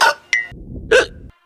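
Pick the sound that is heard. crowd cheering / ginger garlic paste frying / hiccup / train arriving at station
hiccup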